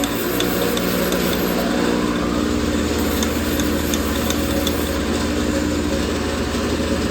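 An MRCM drill-bit sharpener grinds a drill bit with a steady, loud motor hum, punctuated by faint periodic ticks as the bit is worked in the grinder, with no speech.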